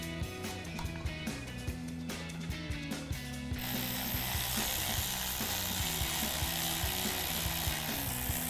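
Ratchet wrench clicking steadily as bolts are tightened on an oil catch can bracket of a Jeep Wrangler JL 2.0L Turbo, a rapid pawl rattle close up, growing denser and louder partway through.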